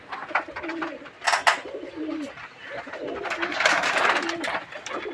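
Pigeons cooing close by, soft low throaty coos repeating in short phrases, mixed with brief sharp bursts of noise and a faint murmur in the background.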